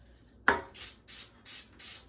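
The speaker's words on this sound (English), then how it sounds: "This is Baker's Joy cooking spray. You're gonna spray you a sheet pan" Baker's Joy cooking spray hisses onto a sheet pan: a sharp initial burst followed by four short, even sprays in a steady rhythm, close and clear with no talk.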